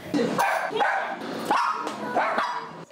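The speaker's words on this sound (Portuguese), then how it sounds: "Festas com latidos, como as que os cachorros de Priscila fazem quando ela chega, vão acontecer." Several dogs bark and yip in quick, excited bursts close by, a rapid string of sharp barks with brief high whines between them and no voices.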